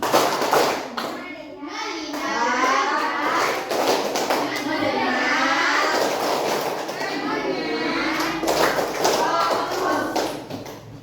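A classroom of children does a rhythmic focus clap, sharp claps in sets between loud children's voices chanting in unison, close and lively throughout.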